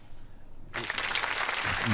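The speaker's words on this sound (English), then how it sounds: "Hand clap that one, because you got to hand clap that one." Hand clapping erupts abruptly in a radio studio after a quiet moment, a bright burst of applause-like claps that holds steady and loud to the end.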